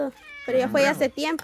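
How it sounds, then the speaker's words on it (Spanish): A pet cat meows loudly and close by in a home, giving a few drawn-out, wavering calls while a person speaks Spanish over them. "Ese es el gato."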